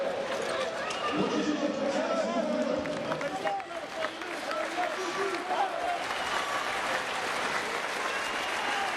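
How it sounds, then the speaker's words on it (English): Basketball fans in the Iberostar Tenerife home arena applaud steadily after a Champions League game, a dense, loud wash of clapping and crowd noise that holds throughout, with a commentator's voice running over it. "generous applause from the Iberostar Tenerife fans for both of these teams"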